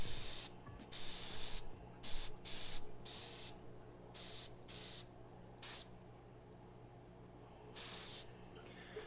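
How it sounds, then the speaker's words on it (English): An airbrush sprays a light dusting of weathering paint onto a prop lightsaber, heard as short hissing bursts of varying length separated by brief pauses, close and fairly quiet. "Let's get to airbrushing."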